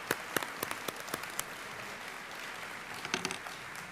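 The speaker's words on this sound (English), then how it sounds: "let's give another round of applause to all of our recipients" An audience at a college convocation applauds, a fairly soft, steady wash of many hands clapping with a few sharper claps standing out.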